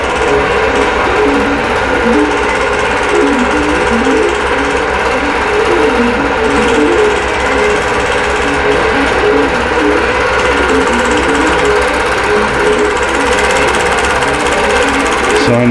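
A computerized quilting machine stitches a Double Wedding Ring quilt design, its fast, even needle hum running loud and continuous, with a rhythmic pitch sweep as the pattern is traced.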